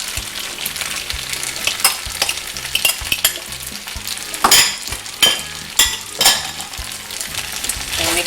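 Garlic shrimp noodles being tossed and stirred in a hot pan with green onions and garnishes, a steady loud sizzle of frying broken by repeated scraping stirs and a few sharper clinks of utensil on pan, with no talking.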